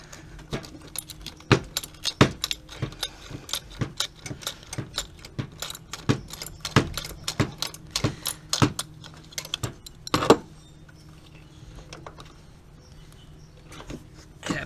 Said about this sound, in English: I'll go ahead and loosen these bolts.